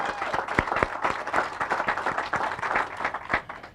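Sustained applause from a gathered audience at a sheriff's station groundbreaking, a busy wash of many hands with a few louder, crisp claps popping out near the listener.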